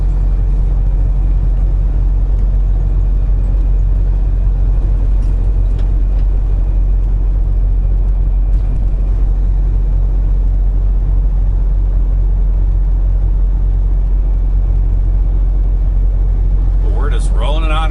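A loaded semi truck cruises along a Missouri highway, its engine and tires making a steady, loud low rumble with road noise. Near the end comes a brief higher sweep.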